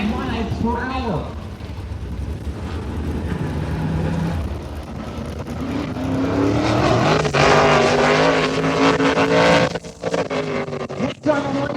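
A race car laps a racetrack during qualifying in Montgomery, its engine a loud, sustained whine that rises in pitch as it accelerates, under continuous commentary.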